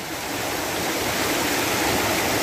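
Water rushing steadily at Kanyangan waterfall in Ramon Magsaysay, Zamboanga, a dense continuous roar of flowing water, close and loud throughout with no voices.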